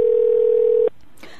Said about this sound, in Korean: 전화 받아주세요